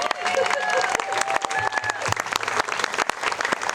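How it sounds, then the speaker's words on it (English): Audience applause at a charity program event for a donor named Angel: lively, uneven clapping with distinct sharp claps, a few cheers and some voices mingling in. "Give a round of applause for Angel"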